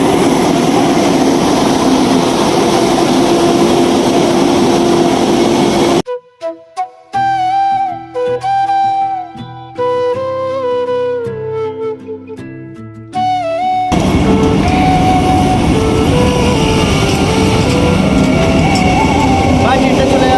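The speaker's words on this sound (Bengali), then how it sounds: "ট্রেনটা চলে গেল দেখো" A Vande Bharat Express train races through a railway station at about 130 km/h, a loud, broad rushing roar that is cut off midway by a stretch of music before the roar returns.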